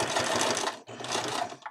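An old Kenmore-style household sewing machine, rebranded and with a vertical bobbin, runs in a steady whirring stitch burst, stops briefly, then runs again, close and clear.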